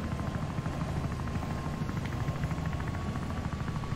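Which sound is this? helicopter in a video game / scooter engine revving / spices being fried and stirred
helicopter in a video game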